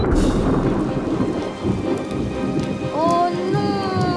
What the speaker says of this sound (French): Oh non, maintenant il pleut encore plus.